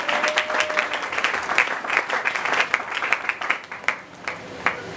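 A church congregation applauds for the Lord, a full room of steady, dense clapping that thins toward the end into scattered, sharper individual claps.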